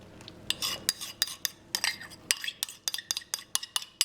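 Friand batter being whisked with melted butter in a bowl for lemon curd friands: quick, close clinking and scraping strokes of a whisk or spoon against the bowl in an irregular rhythm.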